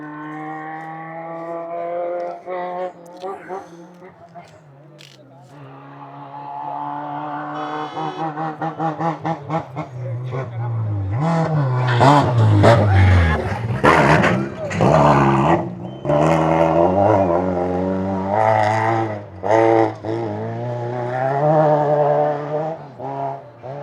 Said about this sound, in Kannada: ಓ ಸೌಂಡ್ ನೋಡಿದ್ರು. ಪ್ರಗತಿಗೌಡನ ಗಾಡಿ.